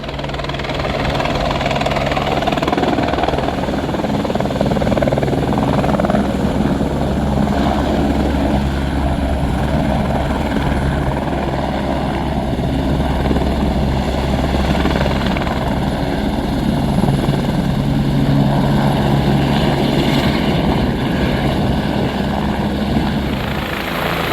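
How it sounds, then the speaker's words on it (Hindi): A loud, steady helicopter roar with rotor thumping and engine drone continues without a break, close by and dominating everything, at a busy helipad serving Kedarnath pilgrims. "हेलीकॉप्टर के शोर में कुछ आपको शायद सुनाई ना दे"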